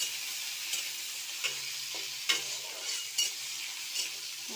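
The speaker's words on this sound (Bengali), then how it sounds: "টমেটোগুলো একটু ভাজা ভাজা হবে।" Tomatoes frying in a pan sizzle quietly while a spoon stirs and scrapes, with several distinct clinks and scrapes spaced through the steady hiss, and no voices.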